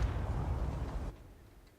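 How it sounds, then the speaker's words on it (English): A World of Tanks battle blast gives a dense, low rumbling roar that sustains for about a second, then cuts off abruptly into a quieter background hiss. "So on that note, fire and explosions and the sand effect."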